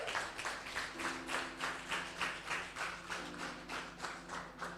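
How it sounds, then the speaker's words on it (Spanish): A church congregation claps to the Lord in a steady rhythmic beat, roughly two claps per second, fairly faint and distant over a low sustained hum. "Un fuerte aplauso al Señor."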